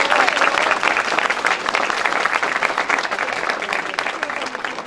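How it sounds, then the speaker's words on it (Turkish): A crowd at a diamond store's grand opening bursts into loud, sustained applause, a dense continuous roar of clapping lasting the whole stretch with some voices mixed in beneath it. "Ben onu alkışlamak istiyorum"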